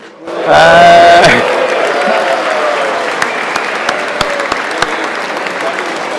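At a wine master class, an audience bursts into loud, close applause with a cheer over it, then the clapping gradually thins and fades, leaving scattered claps.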